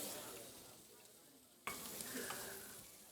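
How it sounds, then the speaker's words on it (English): Food hits hot oil for a quick sear, a soft sizzle that suddenly flares louder partway through and then keeps crackling steadily, heard close and fairly faint, with no talk. "We're going to do a quick sear here."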